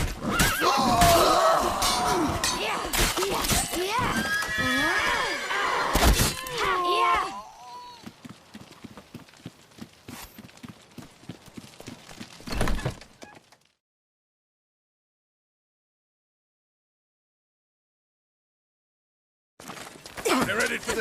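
A horse in The Witcher 3 video game lets out loud whinnies over clattering hooves and commotion, then fainter hoof sounds before a stretch of silence; voices speak during the action.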